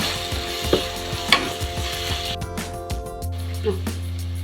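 Grated raw mango frying in a pan for a raw mango rice dish, giving a steady sizzle with occasional stirring scrapes, heard close under a background of faint talk and kitchen hum.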